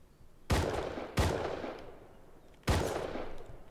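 Gunfire in the video game Rust, three loud separate shots with long echoing decay, the first two close together and the third after a pause, with no talking.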